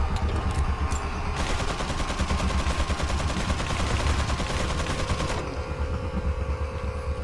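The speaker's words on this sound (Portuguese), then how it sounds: "Tô gastando horrores de bala aqui agora." Rapid automatic gunfire in Resident Evil 4, a dense burst of shots running for several seconds over a low rumbling game soundtrack, then dropping back to the steady background hum.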